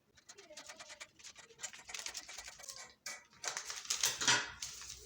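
Scissors snipping through paper while cutting out the front skirt piece of a princess dart dress pattern, a close, steady run of crisp scratchy cuts with brief pauses.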